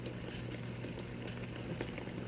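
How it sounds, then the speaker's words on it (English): A pot of beans boiling on the stove at medium heat, a steady low bubbling and simmering hiss, soft and continuous with no voices. "So the beans are a-boiling."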